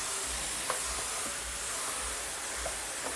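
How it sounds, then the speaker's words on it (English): A Wagner 915e on-demand steam cleaner works a floor, giving a steady airy hiss with a low pulsing pump hum and a few faint clicks, close and continuous, with no talking. "Just going to steam a little bit more."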